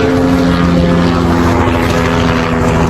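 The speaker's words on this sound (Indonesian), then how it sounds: "Ada helikopter guys." A helicopter passes over the Uluwatu area of Bali, its loud, steady engine and rotor drone filling the air continuously, with no voices heard.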